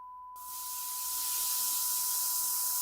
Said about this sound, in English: Here you are hearing both sine wave and white noise at their full peak level.